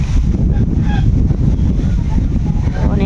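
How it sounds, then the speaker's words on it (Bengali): Strong wind under a village tree buffets the microphone in a constant, heavy low roar that persists for the whole clip, with faint voices underneath. "একটু গাছতলে আসলাম তো অনেক বাতাস"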